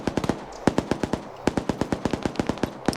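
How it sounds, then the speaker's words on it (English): Rapid bursts of machine gun fire ring out in a video game battle, a loud, sharp, evenly spaced string of shots with a brief pause midway, and no voices. "It's about to be a machine gun battle."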